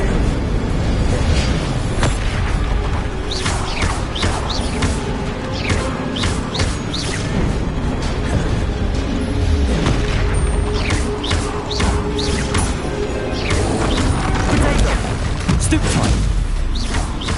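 Repeated explosive Bombarda spell blasts in Hogwarts Legacy crash and boom over a dense, loud, continuous combat roar, with many short sharp bursts scattered throughout and voices heard intermittently.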